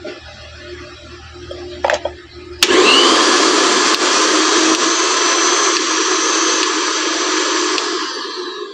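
A repaired mixer grinder, wired straight to the mains, whirs up abruptly after a brief click and runs with a loud, steady high-pitched motor whine that holds for several seconds with no speech.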